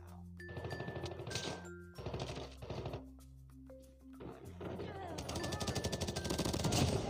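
Bursts of automatic fire from an AK-117 assault rifle in the mobile game Call of Duty Mobile, several rapid rattling volleys separated by short pauses, with game music tones and someone talking between them.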